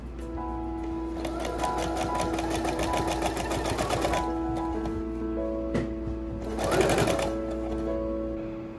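A sewing machine stitches 1930s-style wide-leg pants, running in fast continuous bursts with a whirring, rhythmic needle clatter, pausing briefly and then starting again, close and clear.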